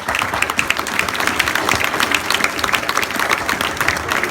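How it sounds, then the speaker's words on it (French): Applause from a crowd at a village carnival in Saubusse, dense, continuous clapping from many hands that stays loud and steady throughout, with no talk over it. "s'il vous plaît, applaudissez les deux."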